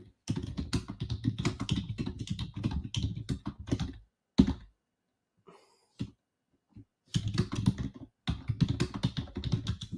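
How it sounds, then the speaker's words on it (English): Fast typing on a computer keyboard at a trading desk, dense close clicks in two long bursts separated by a few seconds of near quiet with scattered taps. "We'll be typing in our chat."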